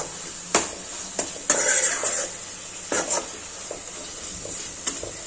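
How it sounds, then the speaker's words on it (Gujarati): Spices are stirred into tomatoes and onions in a pan over a steady hiss of sizzling, with sharp spoon-on-pan scrapes and clinks recurring every second or so, close and fairly loud. "બસ હવે બધા મસાલા મિક્સ કરી અને થોડી વાર આને ચડવા દેશું।"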